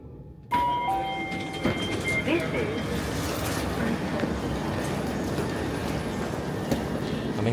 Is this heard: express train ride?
yes